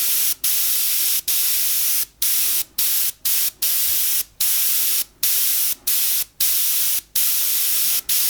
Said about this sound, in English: I'm going to put a little bit of a mist down this area here